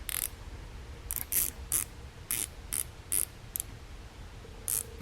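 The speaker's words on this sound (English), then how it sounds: "you get a little ratcheting wrench bit" Small ratcheting wrench bit from a compact tool set, giving quick, close bursts of clicking at an uneven pace, about ten short runs over a few seconds.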